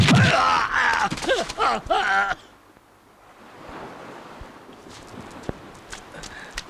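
A horse's hooves clip-clop in a Bollywood children's film, the thudding footfalls coming after a brief burst of voices, then sparse and faint over a hissing background.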